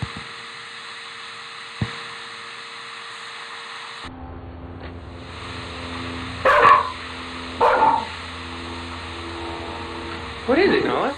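A dog barks in three short bursts against a steady background hum, fairly near.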